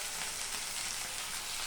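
Okra curry cooking in a pan, giving a steady, even hiss of frying that runs unbroken and fairly close, with no other sounds.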